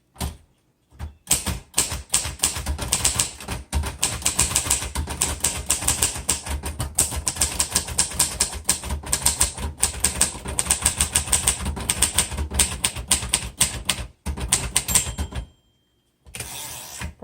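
Rapid, steady keystrokes clatter from a 1949 Royal Arrow manual portable typewriter, loud and close for most of the span, with a short pause near the end and no talking.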